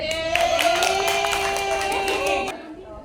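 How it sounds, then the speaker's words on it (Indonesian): Students at an Islamic junior high school Maulid Nabi celebration clap in a quick, regular rhythm while voices chant or sing along, then the sound stops abruptly near the end. "Tepuk tangan."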